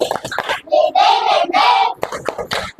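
A group in a classroom does a rhythmic 'tepuk semangat' spirit clap, crisp patterned hand claps mixed with voices chanting along in a sing-song rhythm, close and lively.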